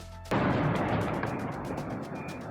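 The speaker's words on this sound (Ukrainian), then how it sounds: "Чули вибухи. Багато вибухів." A sudden loud blast followed by a long rumbling, crackling decay, like a distant heavy explosion echoing, from a missile strike on Dnipro, Ukraine.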